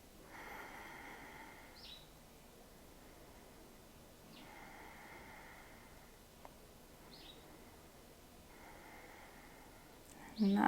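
Soft, slow breaths rise and fall during a yoga pose, roughly three quiet inhale-exhale cycles with faint air noise and no talk.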